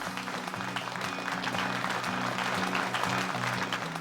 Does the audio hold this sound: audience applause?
yes